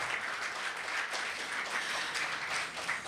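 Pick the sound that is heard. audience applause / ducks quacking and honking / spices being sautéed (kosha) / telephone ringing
audience applause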